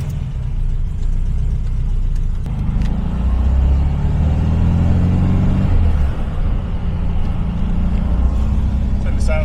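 A VW Beetle fitted with an AMR 500 supercharger kit drives along with a steady, close engine drone from inside the car that swells around the middle. People talk over the engine.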